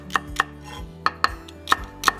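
Six sharp knife strikes on a cutting board as vegetables are chopped for butternut squash soup, spaced irregularly and close, with no talk over them.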